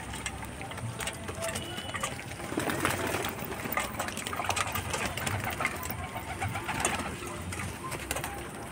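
Pet pigeons cooing in a home loft, soft repeated coos mixed with fluttering and rustling, under a person talking.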